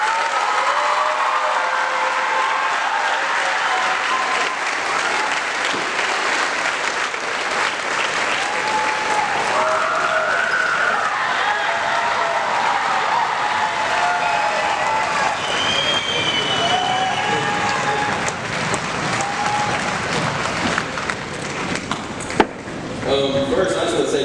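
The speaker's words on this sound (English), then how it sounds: "you guys are electric with the clapping and the ovation" A large audience at an evening ceremony honoring Mac McClung in Gate City applauds and cheers in a sustained, dense ovation that fills the whole stretch at steady volume, with scattered shouts rising through the clapping.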